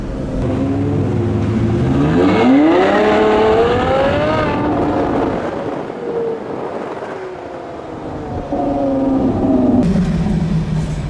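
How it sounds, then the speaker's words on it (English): A convoy of supercars and hypercars runs down a hill on a country road in Italy under police escort, engines revving and rising in pitch as loud cars pass close by, one after another. "Look at all the cars going down the hill right now"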